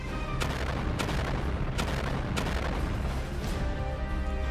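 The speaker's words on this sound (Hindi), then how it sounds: "जिससे जबरदस्त धमाके होने लगते हैं और आसमान में कई फीट ऊंचाई तक पानी और धुआं एक साथ उठते हैं" Missile strikes on a cargo ship at sea: a run of five sharp, heavy blasts at roughly even intervals over a dense, continuous rumbling roar, with no voices.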